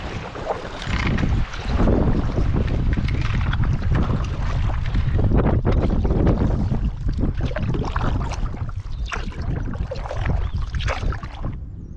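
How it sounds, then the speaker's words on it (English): Strong wind roars steadily across the microphone in the Canadian wilderness, a loud, unbroken rush with gusting surges and no voices. "We've been battling some crazy wind for most of the day."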